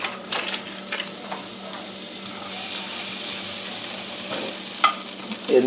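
Unsalted butter melts in a hot pan with a steady, fairly loud sizzle and frying hiss, plus a couple of faint clinks near the end and no talking.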